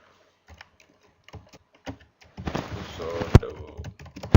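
Sparse key taps on a computer keyboard at first, growing into a denser burst of typing with a few sharper clacks, close and fairly quiet, no voice over it.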